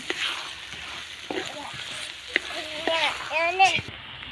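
Mushrooms fry in spiced oil in a pan, giving a faint, steady sizzle with a few scraping stirs and brief soft vocal sounds near the end.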